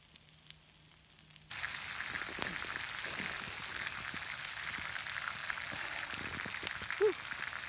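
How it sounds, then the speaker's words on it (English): Bread toasting directly on campfire coals outdoors in winter gives a soft continuous crackle and sizzle, steady and close, starting abruptly after a quiet opening. "we're just warming up, toasting our bread directly on the coals"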